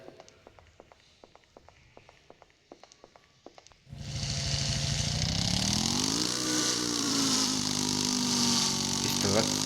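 A motorcycle engine starts up loud and close after a few seconds of quiet footsteps and clicks, then holds a steady, revving drone with pitch rising and falling as it pulls away.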